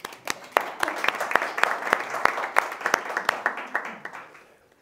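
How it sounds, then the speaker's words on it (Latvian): A small audience at a tech meetup claps in a brisk, evenly paced burst of distinct hand claps, loud and close, before it tapers off into quiet. "Aplausi!"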